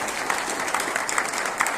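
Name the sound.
audience applause at union meeting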